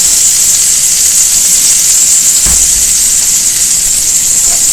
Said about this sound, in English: Hopefully the sizzling's not too loud on the stream.